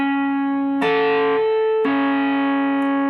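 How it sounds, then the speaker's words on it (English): Notes on two guitar strings ring together as a chord, struck in two close plucks about a second apart, each sustaining clearly over the other with no voices. "Let the notes ring together. Hold both notes so that you make a chord."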